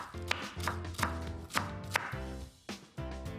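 A knife chops parsley leaves rhythmically on a cutting board, about eight crisp strikes, close and clear.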